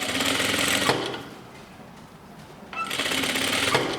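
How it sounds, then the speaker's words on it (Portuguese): Sewing machine stitching a collar onto a linen shirt, a loud close whirring run that pauses for about two seconds, then starts again. "a gente prega a gola primeiro do lado direito"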